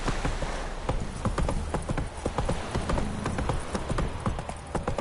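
Horse hooves galloping in The Witcher 3: Wild Hunt, a fast, steady clip-clop rhythm, close and prominent throughout, with faint background ambience.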